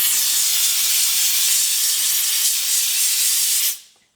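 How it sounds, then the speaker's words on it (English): A steam cleaner used on a leather car seat gives a loud, continuous hiss for several seconds, then cuts off abruptly near the end. "just get your steam cleaner again"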